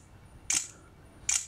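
An Honor 3C smartphone camera fires its shutter sound twice, two short crisp clicks about a second apart, close and clear over a quiet background with no talking.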